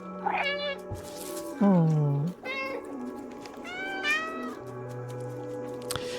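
Synthetic cat meows from the video game Stray repeat several times with rising and falling whines, alongside a steady electronic hum; a person briefly exclaims.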